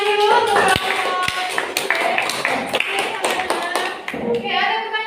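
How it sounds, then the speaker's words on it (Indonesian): A classroom group wraps up its presentation and classmates clap for it, a short scattered burst of hand claps mixed with overlapping voices and chatter. "Tepuk tangan dulu untuk kelompok."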